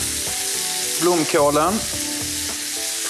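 A floured cod fillet fries in butter with a steady, close sizzling hiss throughout; a voice speaks briefly over it partway through.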